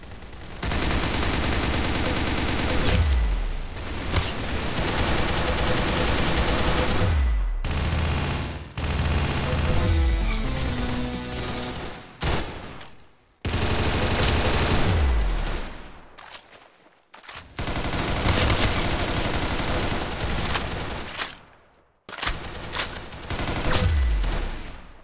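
Rapid bursts of gunfire from a shooting video game crackle loud and dense, separated by brief gaps, with a few low thumps marking separate shots among the sustained rattling fire.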